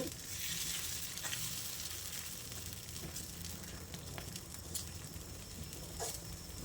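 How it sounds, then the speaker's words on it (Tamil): Ground coconut mixture for Chettinad-style paal kozhukattai sautéing in a pan, a steady close sizzle throughout with faint stirring scrapes and no talk. "இது நல்லா இப்படி வதக்கிடலாம் சீக்கிரம் வதங்கிடும்"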